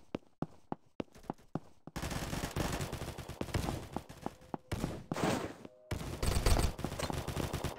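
Rapid gunfire in the shooter game Combat Master, sharp single shots at first, then dense bursts of automatic fire and overlapping volleys, loud and close with brief pauses between exchanges.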